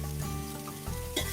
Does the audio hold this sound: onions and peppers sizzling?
yes